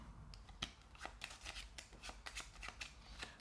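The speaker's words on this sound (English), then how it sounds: "and shuffle them." Playing cards being shuffled by hand: a quick run of crisp riffling snaps and flutters, close and fairly quiet, with no talking.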